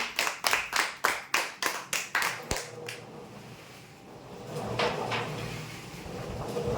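A few people at a prize-winners' draw clap in a sparse, slow rhythm of about a dozen sharp claps that stop, followed by quiet murmuring room noise.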